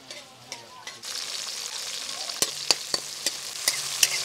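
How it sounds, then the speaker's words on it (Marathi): Cut green chillies frying in hot oil in a kadhai for a vegetable dish, with a bright, crackling sizzle that swells after a second and throws sharp spattering pops near the end, close and clear with no talking. "तर मस्त बघा मिरची कशी फ्राय होते आपली।"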